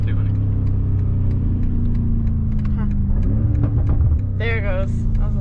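A 2021 BMW M5 Competition drones steadily while coasting, with scattered sharp exhaust crackles and pops over the engine hum, then a quick rising rev blip as it downshifts; a brief voice-like sound appears near the end.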